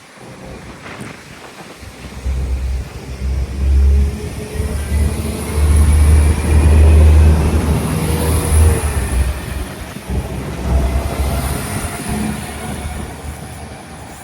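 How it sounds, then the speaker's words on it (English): A train in Northern Ireland rumbles deeply as it pulls away from a station, the low roar swelling and easing with faint wheel squeal, heard from nearby with no talking. "starting with getting this train leaving"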